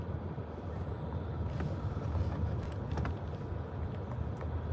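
Steady low road rumble and engine drone from inside a moving car, with a constant wash of tire and wind noise and no talking.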